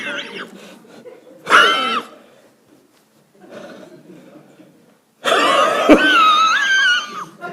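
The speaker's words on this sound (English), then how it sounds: "Too much of cough is there." Several harsh, congested coughs burst out close by in separate fits, with short quiet gaps between them and a longer, louder coughing spell near the end.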